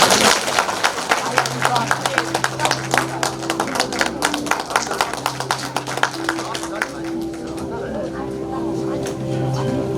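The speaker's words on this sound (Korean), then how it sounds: "박수로 맞이해 주십시오." An audience at a book launch event gives a burst of hand clapping that fades over several seconds to welcome a poetry reciter, with a low hum underneath.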